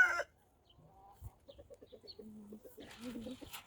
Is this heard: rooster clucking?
yes